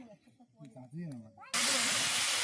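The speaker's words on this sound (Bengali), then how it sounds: "তেল গরম হয়ে গেছে, ডিম দিয়ে দিচ্ছে।" A voice speaks briefly, then a sudden loud, steady sizzle erupts as eggs hit hot oil and keep frying.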